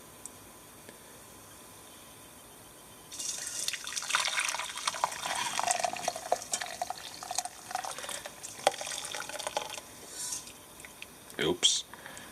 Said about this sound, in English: I'm going to pour the tea through this and filter out the needles